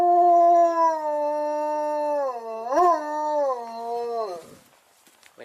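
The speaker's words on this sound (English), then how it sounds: "What are you howling about?" A dog gives one long, sustained howl lasting about four seconds, loud and near, wavering in pitch midway before trailing off into quiet, with no voices over it.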